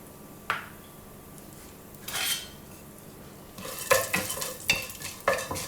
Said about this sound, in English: It's hot. I'm adding in the mustard seeds, cumin seeds